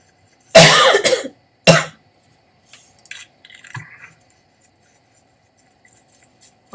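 Two sharp, close coughs from a woman playing a video game, a long harsh one followed by a shorter one, then faint clicks and small movement noises in a quiet room.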